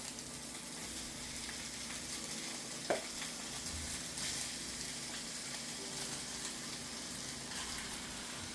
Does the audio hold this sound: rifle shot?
no